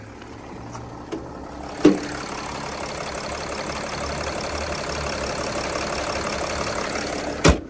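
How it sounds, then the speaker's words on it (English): A diesel engine idles steadily at moderate volume, with a low, even clatter and a couple of sharp knocks or clicks standing out. "Does sound like a diesel."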